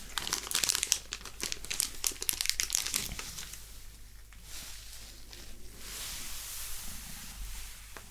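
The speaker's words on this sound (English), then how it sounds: "They are only in a plastic bag. So I can take out one." A silver coin is pulled from a thin plastic bag, with sharp, close crinkling and crackling that fades after a few seconds into soft rustling and quiet handling.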